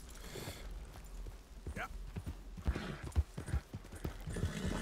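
Horse hooves clip-clopping in Red Dead Redemption 2, a run of irregular thuds mixed with game sounds and a brief whinny-like tone, under someone talking.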